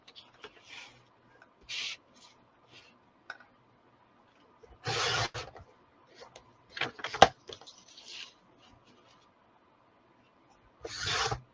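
Sheets of paper are cut down to size for a folio, giving scattered short rasping strokes and a few longer slicing bursts, close and fairly quiet with pauses between.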